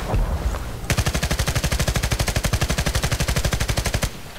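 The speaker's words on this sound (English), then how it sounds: "So now we're going to move on to hip fire full auto." MG36 light machine gun in Battlefield Play4Free fired full-auto from the hip, a rapid, steady stream of about forty loud, evenly spaced shots lasting roughly three seconds before stopping abruptly, no voices.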